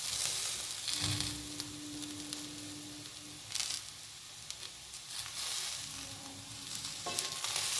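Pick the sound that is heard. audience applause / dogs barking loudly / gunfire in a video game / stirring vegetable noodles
stirring vegetable noodles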